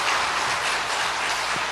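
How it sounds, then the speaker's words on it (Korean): A church congregation claps together to welcome a newcomer at a worship service, producing a dense, even wash of applause from many hands that holds steady at moderate loudness throughout, with no talking over it. "우리 박수로 좀 환영해 주시기 바랍니다"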